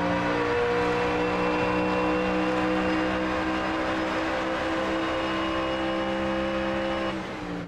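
A GT3 racing car engine in a video game whines at high, steady revs, with sustained tonal harmonics, loud and continuous, with no talking.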